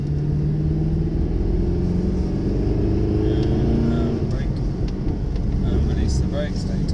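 Mercedes SLS AMG engine on a track, power building gradually in a rising rumble with a sweeping tone through the first half, then rougher road and wind noise later, heard from inside the car.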